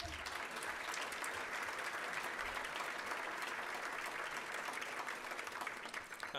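Applause from a gala audience at an anniversary dinner, a broad sustained wash of many hands clapping, fairly even throughout and fading slightly at the very end.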